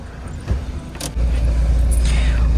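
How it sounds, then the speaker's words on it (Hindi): A car maneuvers to turn around in a tight spot. A faint jangle and clicks come first, then the engine's low, steady rumble starts up close and holds to the end. "इसलिए यहाँ पर आकर जो है ना गाड़ी को इधर से आके मोड़ते हैं"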